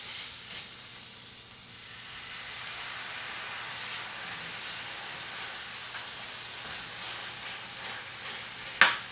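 A soft, steady sizzle of garlic sautéing in a pan for buffalo chicken dip, faint and continuous, with a sharp clink near the end.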